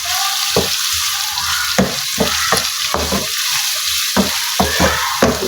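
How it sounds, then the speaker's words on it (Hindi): Onions being stirred into sizzling minced meat keema in a pan, a steady frying hiss punctuated by regular spoon scrapes and knocks close by. "ये देखिए अच्छी तरह से इसमें प्याज को मिक्स कर देना है कीमे में"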